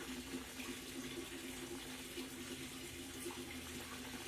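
Water drains steadily through a shower pan drain, a faint, continuous trickling wash with no break or voices.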